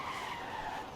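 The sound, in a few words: car tires skidding sideways, Lucid Air Sapphire in video game Forza Horizon 5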